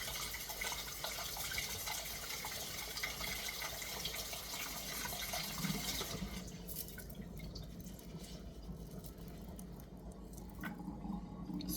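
Tap water runs steadily while a fresh egg is rinsed under it, a continuous close splash that eases off partway through.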